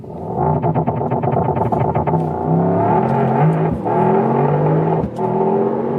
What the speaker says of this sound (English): Let's go to the Sport Plus mode and launch that a little bit slightly uphill with the race start.